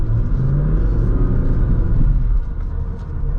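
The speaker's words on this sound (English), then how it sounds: "Hear that turbo spooling up." The diesel engine of a Jeep Grand Cherokee EcoDiesel rumbles steadily up close with a faint rising whir of a turbo spooling up, and no talking.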